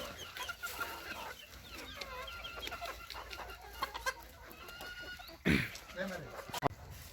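A hen with a tightly impacted crop clucks and squawks repeatedly while being handled, her short calls scattered through the clip, with a sharp flurry of louder noise near the end and a person talking underneath.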